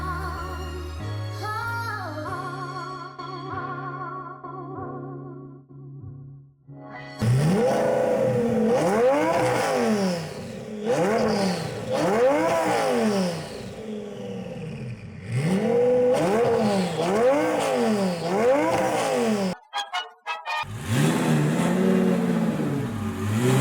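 A Lamborghini engine revs loudly in repeated rising and falling bursts as the car creeps up ramps onto a U-Haul trailer, close and aggressive, with brief pauses between pulls and no talking.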